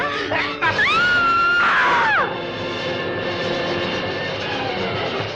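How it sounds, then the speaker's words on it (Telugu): A person screams in a courtroom scene from the Telugu film Manchi Manushulu, a loud, drawn-out wailing cry that rises and bends over about two seconds before fading into a sustained background drone. "ఏమిటండి ఆ కేక?"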